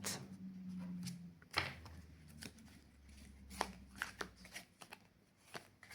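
Tarot cards being shuffled and handled for a three-card draw: a run of crisp riffles and slides with sharp flicks and taps, close and fairly quiet, with no talking.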